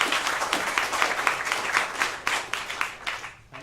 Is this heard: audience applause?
yes